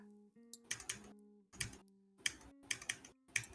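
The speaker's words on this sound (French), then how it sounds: "Il est en train de s'envoyer une game là sur son clavier mécanique." Bursts of rapid key clicks from a mechanical keyboard, typed in quick clusters with short pauses between, close and crisp over a faint steady hum.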